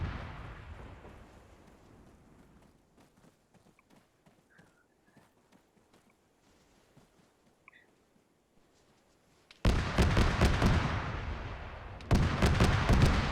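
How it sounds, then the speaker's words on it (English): BMP armoured vehicles open fire in ArmA 3, heard first as a muffled, distant rumble with scattered thuds, then two sudden bursts of loud, dense, roaring fire close by. "until these BMPs are done shooting at us"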